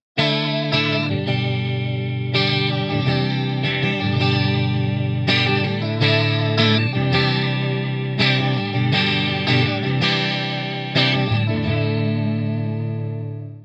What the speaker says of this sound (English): up first, we have a clean flanger type of sound